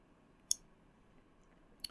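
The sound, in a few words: computer mouse clicking OK in Windows Server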